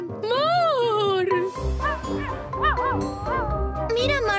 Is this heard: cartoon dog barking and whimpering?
yes